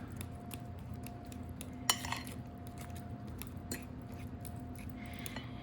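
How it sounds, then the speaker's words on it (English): A fork taps and scrapes against a bowl while mashing charred eggplants, with soft squishing under quiet, irregular metallic clicks and one sharper clatter. "you just put the eggplants into a bowl and mash them with a fork"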